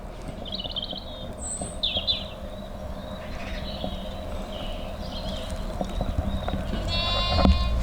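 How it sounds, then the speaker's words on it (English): Spring lambs bleating on an outdoor farm walk, faint calls drifting in from a distance over steady wind and birdsong. "My spring walk is complete with the spring lambs."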